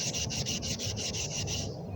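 A rust stain on a vinegar-cleaned Home Depot metal bucket being rubbed by hand, producing a steady series of about eight quick, close, raspy strokes, with no talking.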